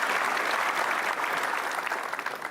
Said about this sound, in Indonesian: Kita ucapkan terima kasih dan tepuk tangan sekali lagi untuk para sahabat-sahabat super kita